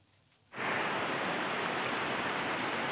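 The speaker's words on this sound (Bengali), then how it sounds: "ভীষণ বৃষ্টি আসলো, দেখো।" After a brief quiet moment, heavy rain suddenly starts and roars steadily, a dense, loud downpour that fills the rest of the clip.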